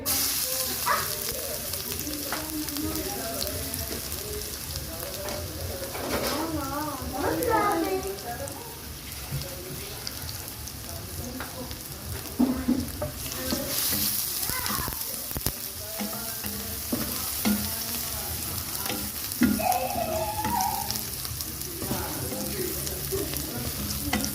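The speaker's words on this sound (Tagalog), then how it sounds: "naglagay na tayo ng mantika. Igisa natin yung ating onion. And ay garlic." Onion and garlic sautéing in cooking oil for a crab dish, a continuous close sizzle and crackle with stirring scrapes throughout, and a voice talking intermittently over it.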